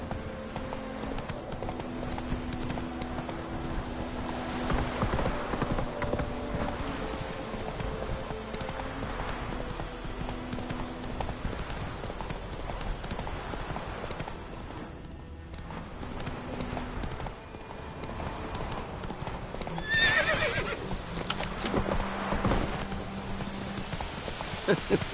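Horse hooves clip-clopping at a steady run in The Witcher 3 video game, with game music and ambient rain-like texture underneath and a brief neigh near the end; continuous and fairly close.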